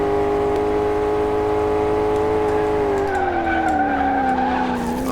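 A mid-engine race car in Car Mechanic Simulator 2018 runs off course with a sustained, loud tire squeal over a droning engine whose pitch sags as it slides, continuous for several seconds.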